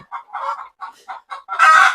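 A close country-breed rooster calls in a quick series of short clucking bursts, ending in a louder, sustained crow-like cry.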